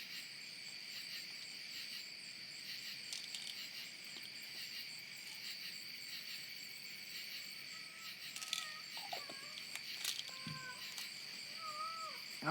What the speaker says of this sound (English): Oh, kitty, be quiet.